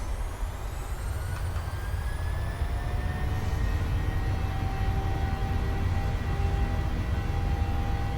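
Boeing 737-700 jet engines spooling up to takeoff thrust in a flight simulator, a loud, steady roar with a deep rumble and rising whine that holds and builds as the aircraft begins its takeoff roll.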